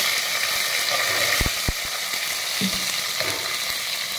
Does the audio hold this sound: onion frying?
yes